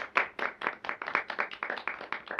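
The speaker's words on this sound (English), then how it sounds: "Round of applause for Pete" Scattered clapping from a small audience at a charity pub event, about a dozen distinct claps in a loose, uneven rhythm, fairly close and modest in volume, with no talking.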